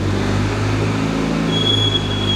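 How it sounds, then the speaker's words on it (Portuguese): A car engine revs on a data acquisition test rig, producing a steady, loud hum with sustained low tones and a faint high whine appearing partway through. "Vou acelerar o carro em cima do nosso centro de aquisição de dados."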